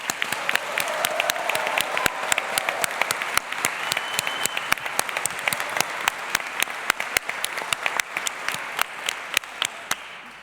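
Audience at a graduation ceremony applauding steadily, a dense sustained patter of many clapping hands with a few cheers, loud and close throughout.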